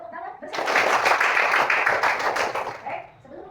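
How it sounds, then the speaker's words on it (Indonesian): Primary school class clapping hands together in a classroom, a close, loud burst of rapid applause lasting about two and a half seconds before fading. "Kita tepuk tangan bersama."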